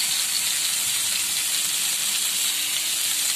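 Stuffed pointed gourd pieces fry in hot oil, giving a dense, even sizzle that stays loud and unbroken from start to finish with no voices.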